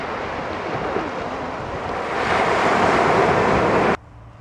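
Surf washing onto a beach, a steady broad roar of breaking waves that swells louder partway through, heard alone with some wind, then cut off abruptly near the end.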